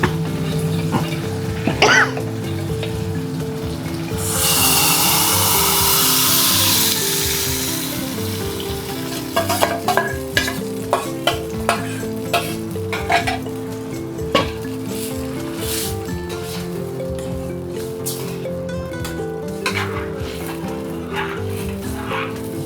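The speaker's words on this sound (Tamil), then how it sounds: "இப்போ நம்ம கரைச்சி வச்சுருக்க கருணக்கிழங்கு மசியல் அதில் ஊற்றிக்கலாங்க." Mashed elephant foot yam poured into a sizzling fry of onion, green chilli and tomato for Chettinad masiyal, giving a loud burst of hiss followed by steady frying crackle and scattered spoon clinks.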